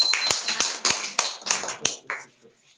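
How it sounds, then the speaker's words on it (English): Scattered claps from a small group of students in a classroom, a handful of sharp separate hand strikes over a few seconds that thin out and stop. "Give him a huge round of applause."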